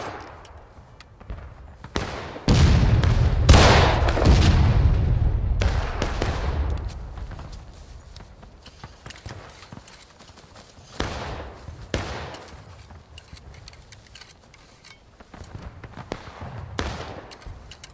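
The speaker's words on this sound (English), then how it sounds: "Shaw's gonna start throwing down some volleys, first battalion" Musket volleys crack out in a Civil War battle in War of Rights, a dense burst of overlapping shots followed by scattered distant rounds and further volleys, loud at first and then thinner and farther away.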